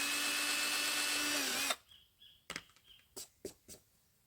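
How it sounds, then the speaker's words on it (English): A power drill whirs steadily at close range for under two seconds while drilling a hole in a display board, then stops, followed by a few soft clicks and taps. "So now I'm just going to drill a hole in each little mark that I left."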